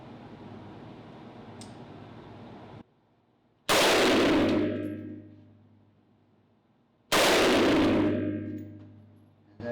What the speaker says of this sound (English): I'm going to go ahead and fire some rounds in all the modes